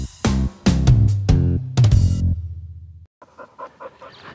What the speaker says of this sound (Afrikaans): So Johan, so hierdie is nou Harry die kampioen boelterrier in Suid-Afrika, né?